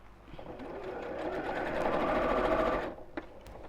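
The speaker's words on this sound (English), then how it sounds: "help your machine over the very thick areas such as the side seams or the straps" A sewing machine stitching over the thick side seams of a tote bag, one continuous buzzing run that builds and then stops, followed by a few small clicks, close and fairly quiet.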